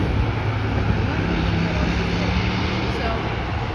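A plane taking off at Vancouver International Airport, a steady broad engine roar that holds loud throughout, with a person talking over it.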